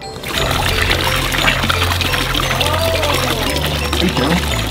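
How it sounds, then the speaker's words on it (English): Water glugging and pouring out of a plastic water bottle, a steady rush that continues for several seconds at close range, with people's voices mixed in over it. "Apparently you can empty a water bottle faster by swirling it or using a straw."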